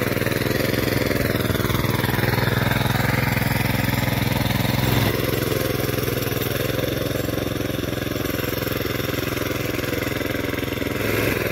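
A small tractor engine running in a pomegranate orchard, a steady close-range mechanical drone that holds constant throughout with a slight shift in tone midway.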